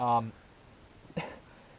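A man clears his throat with a short, loud, rasping burst, and after a pause gives a single quick cough. He is speaking about a Kawasaki KLX 250S dirt bike.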